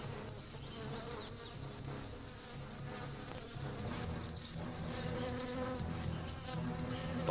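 A dense, continuous drone of many honey bees buzzing together, fanning their wings close by at a steady level throughout.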